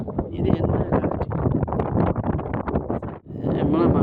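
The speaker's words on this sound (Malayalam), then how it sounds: "ഇത് എന്നാ കാറ്റ്." Strong gusting wind on the rocky hilltop of Thamburatti Para buffets the microphone in loud, continuous, uneven roars with a brief lull near the end.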